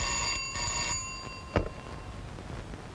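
An office telephone rings in a Telugu comedy film scene, with a short bright ringing burst at the start, followed by a single sharp knock and a quieter room background.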